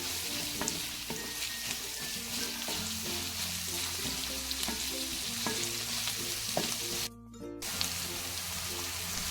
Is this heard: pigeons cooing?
no